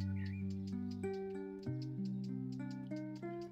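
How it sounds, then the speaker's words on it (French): Birds singing at dusk, clear tonal calls and chirps stacked in repeated steps, with a faint ticking insect-like pulse beneath, fairly quiet and close with no talking. "C'est là où on entend les oiseaux."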